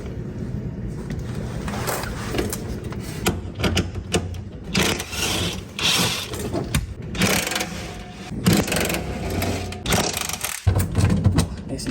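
A ratchet works loose the 15mm skid plate bolts under a Porsche Boxster, giving uneven bursts of clicking and rattling mechanical noise close by, with pauses and rustling between strokes.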